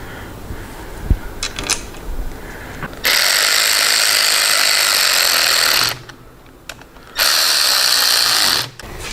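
A power tool drives screws into a motorcycle clutch perch on a Road Glide, running as two sustained, steady whirring bursts of a few seconds each with a brief pause between them, close and loud.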